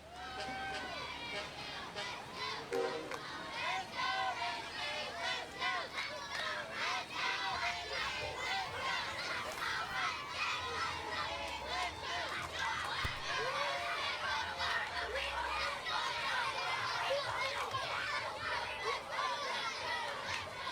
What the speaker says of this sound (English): They're cheering, "Let's go, Renegades, let's go."